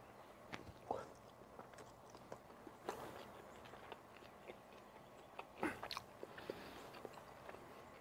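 Quiet, close bites into the crunchy skin of tandoori chicken cooked in a Big Easy oil-less fryer, giving scattered crisp crunches and chewing sounds with pauses between them.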